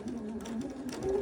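A sewing machine back stitches through a towel being made into an oven dress, a brief close whirring run with a shifting motor hum.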